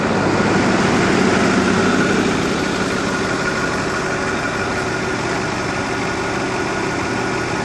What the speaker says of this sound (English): I have the engine running, so you can hear it as I walk around.